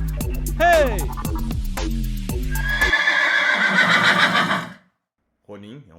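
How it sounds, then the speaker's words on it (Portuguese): A channel intro jingle opens with a horse neighing loudly in several rapid whinnies and a few clip-clops, then shifts into a bright, dense musical sting, followed by a brief silence and a short burst of a voice. "solta aí a vinheta"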